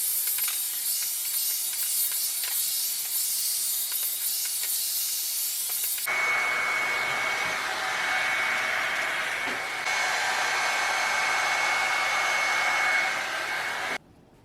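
A hair blow dryer blows out combed-out locs with a loud, steady whoosh running nearly the whole time, its pitch and tone shifting partway through as the setting or angle changes, then cutting off at the end.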